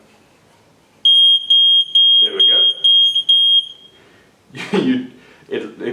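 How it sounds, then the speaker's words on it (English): Water leak detector alarm for a reverse osmosis filter system, a loud shrill high-pitched beeping in rapid repeated pulses for about three seconds, followed by someone speaking. "As soon as the water connects these 3 contact points at the bottom of the system, an alarm goes off, audibly telling you that something is wrong"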